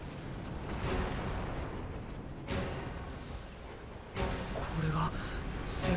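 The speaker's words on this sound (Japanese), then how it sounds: "爆発音。" Explosions rumble in the video game Xenoblade Chronicles 2, a dense, continuous roar of blasts with sharper bursts near two and four seconds, loud and close, with game music and effects layered underneath.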